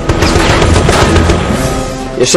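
F-86F Sabre .50 caliber machine guns firing armor-piercing incendiary rounds in a Korean War dogfight against a MiG-15, a loud, dense, continuous roar of rapid shots with no pauses and no voices.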